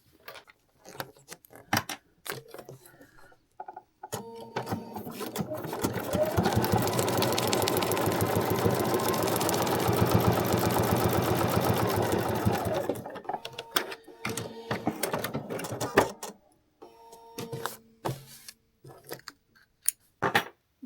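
A sewing machine runs steadily for several seconds stitching along a printed line on foundation paper piecing for a quilted pillow, with quieter fabric handling and clip clicks before and after.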